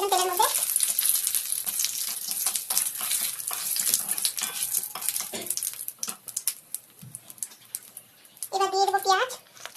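Cumin seeds and dried red chillies frying in hot oil for a Bengali egg curry with cauliflower and potato, giving a steady loud hiss and crackle throughout, with a voice heard briefly at the start and end.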